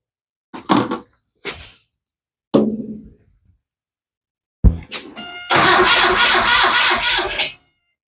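A 1976 Chevy Luv pickup is cranked over in a few short bursts and clunks, then the engine catches and roars to a loud, rough run nearby before cutting off.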